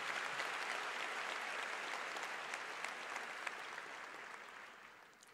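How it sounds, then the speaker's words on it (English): An audience in a hall applauds an orchestra, a Camerata ensemble, with dense, steady clapping. The applause holds for several seconds, then slowly thins and fades, with no voices over it. "One more round of applause for them,"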